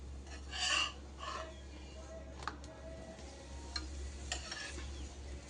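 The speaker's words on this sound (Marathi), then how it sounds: "तर छान असं साजूक तूप घालून आपल्याला ही पोळी जी आहे दोन्ही बाजूनी व्यवस्थित भाजून घ्यायची आहे." Puran poli, a sweet flatbread, roasts in ghee on a pan with a soft, continuous sizzle, a low steady hum underneath, and a few sharp scrapes and taps from a spatula.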